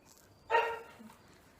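An old pit bull barks indoors at a window, one loud burst of barking followed by a softer yip, fairly close and with no talking.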